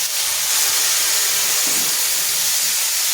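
Chopped tomatoes sautéed with onions sizzle steadily in a pan, a continuous close, bright hiss with no break.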